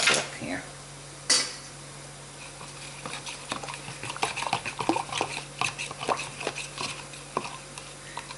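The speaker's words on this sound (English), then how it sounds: "Now, mix this up a little bit. Here's my fork here." A fork stirring pasta fagioli soup ingredients in a pot, with light scraping and intermittent clinks against the sides under a steady low hum, after a couple of louder clatters at the start.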